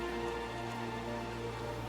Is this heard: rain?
yes